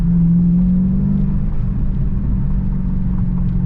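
A Dodge Charger SRT Scat Pack's engine rumbles steadily from inside the car while driving, a loud, deep, continuous drone with faint exhaust burble and no talking.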